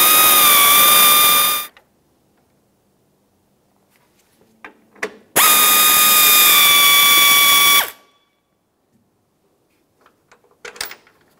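A power tool spins out 10 mm grille bolts on a 2009-2019 Ford Flex: two loud, close, whirring bursts a few seconds apart, with quiet clicks and small handling noises between and after them.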